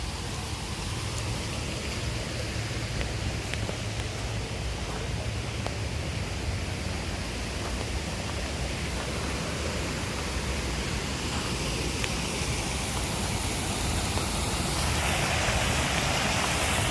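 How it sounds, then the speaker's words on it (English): At Olmsted Falls a waterfall gives off a dense, steady roar of falling water, unbroken and even throughout, with no voices. "And over there's the waterfall."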